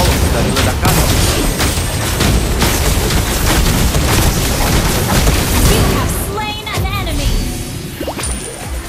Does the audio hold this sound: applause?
no